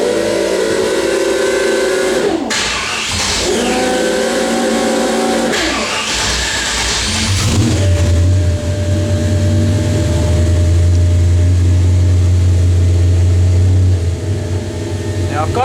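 A car engine fitted with water/meth injection revs up in stages with the brake held, settling into a loud, steady drone near 3,000 rpm, while someone talks over the noise.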